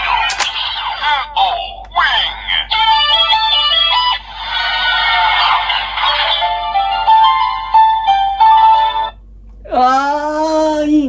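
Bright synthesized chimes and a ringtone-like electronic melody come from a CSM Decadriver Ver. 2 Kamen Rider Decade toy belt reading a Den-O Wing Form card, running for about nine seconds before a louder closing burst.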